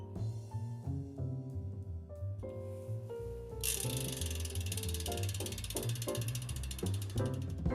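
A torque wrench ratchets while tightening the lockring of an Extralite bicycle cassette, giving a series of short, close metallic clicks in uneven bursts that grow denser and louder partway through.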